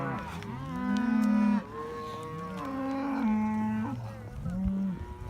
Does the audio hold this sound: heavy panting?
no